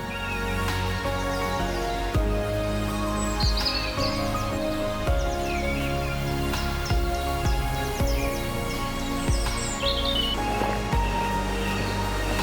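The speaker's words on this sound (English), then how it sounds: "The whole woodland is alive with birds" Woodland birds singing, with several overlapping chirps and whistled phrases scattered throughout, fairly faint over a steady background hum and occasional soft knocks, no talking.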